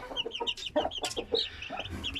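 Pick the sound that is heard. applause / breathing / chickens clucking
chickens clucking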